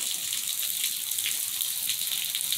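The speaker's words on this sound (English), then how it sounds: "It barely dripping." Faint, steady water trickles in a forest, giving a soft continuous hiss. No individual drops stand out and no one speaks.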